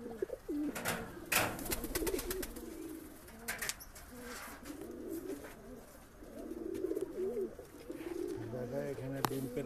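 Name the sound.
pigeons in a pigeon loft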